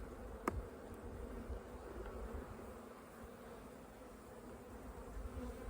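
A honeybee colony during a hive inspection hums with a steady, close buzz that continues throughout, broken by a brief sharp click.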